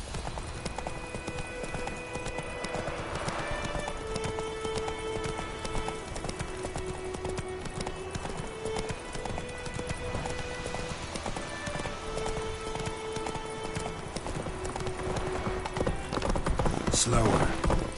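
Hooves of the horse Roach clip-clop in a steady trot in The Witcher 3 video game, a continuous rhythmic clatter under game ambience, with a voice speaking over it.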